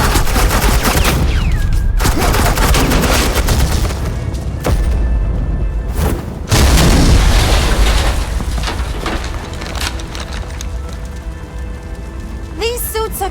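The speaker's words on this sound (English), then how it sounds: "suppressing fire." Suppressing gunfire bursts and heavy booms from a Batman video game, loud and close, in repeated volleys with short gaps, while voices talk over the action.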